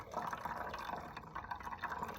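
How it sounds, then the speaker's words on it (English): Boiling water pours steadily into a Stanley pour-over coffee maker, a continuous soft splashing and filling sound with no talking. "And pour some boiling water here on top of this"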